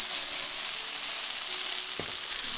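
Shrimp sizzling steadily in a hot pan during stir-frying, a close continuous hiss with a brief clink of a utensil near the end.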